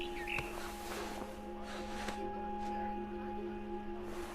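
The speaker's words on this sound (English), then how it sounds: "Then I heard chirping outside my window. It was a barn swallow going back to her nest." A barn swallow chirps outside a window in the video game What Remains of Edith Finch, with brief faint tweets over a steady hum of ambient game sound.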